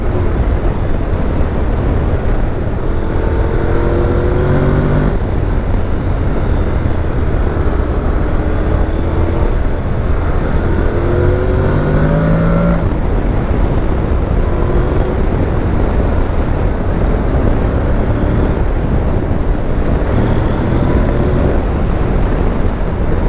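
Riding a 2021 Honda NC750X motorcycle: steady wind-buffeted engine drone with harmonic whine rising and falling through gear changes, continuous and close to the microphone.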